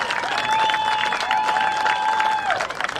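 A crowd applauds a high school boys lacrosse team at a section championship trophy presentation, loud steady clapping mixed with cheering, while a sustained whistle-like tone runs over the top and fades near the end.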